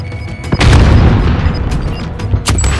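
A frag grenade in the video game Warzone detonates with a loud, deep boom that rumbles on and stays heavy, broken by sharper cracks and pops like distant gunfire, with no speech.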